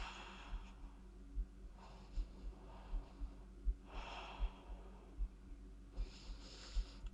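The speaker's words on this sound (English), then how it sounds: "Take a few breaths here." Slow, rhythmic breaths during a mat-based workout, soft exhales and sharp nasal intakes repeating about every second, close and quiet with no talk.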